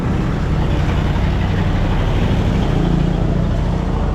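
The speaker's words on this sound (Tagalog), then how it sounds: "Maingay yung sasakyan" A noisy vehicle engine runs in a loud, steady low rumble that stays close and constant throughout, with no voices heard.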